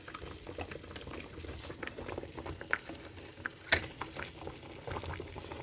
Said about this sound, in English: our can lids are boiling now